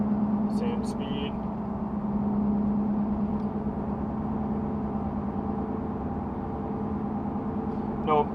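Constant low-pitched tire and road drone inside a lifted Porsche Cayenne holding a steady speed with balance beads in its tires, continuous and even, with brief faint beeps early on.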